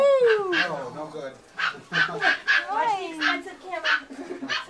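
A boxer dog gives a string of high whining and yelping vocalizations close by, rising and falling in pitch in short bursts.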